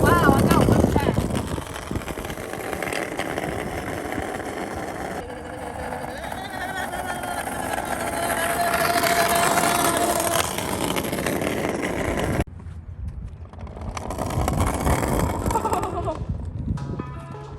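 A hoverboard go-kart attachment rolls along with a noisy front wheel, making a steady rumbling, rattling drone. Voices talk over it throughout.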